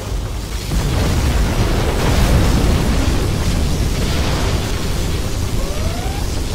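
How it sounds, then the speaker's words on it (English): A nuclear missile detonation in the real-time strategy game C&C Generals Zero Hour, a loud, sustained rumbling roar that rises after the first second and holds steadily to the end. "We have launched our nuclear missile."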